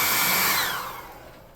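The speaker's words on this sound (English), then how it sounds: "using the +2 hot air gun at burning to kind of dry up some of that paint down there on the base" Hot air gun drying paint on a tabletop miniature model base, a close, loud steady blowing whoosh that fades away as it is switched off.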